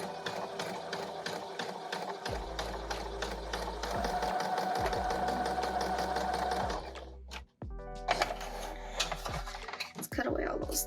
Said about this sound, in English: I'm going to do a little stitch here just to hold those petals down a little more as well